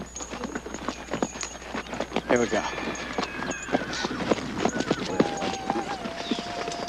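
Horses walk at a steady clip-clop of hooves at moderate distance, with a brief whinny, while people talk over the hoofbeats.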